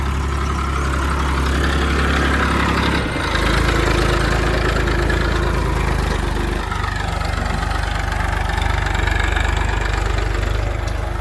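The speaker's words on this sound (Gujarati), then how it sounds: "ખેતરમાં વહેલું વહેલું ટ્રેક્ટર આવી છે કેવી રીતે ખેડા છે તમને બતાવું" A tractor plows a cotton field early in the morning, its engine running loud and steady with a deep rumble that stays constant throughout, with no talking.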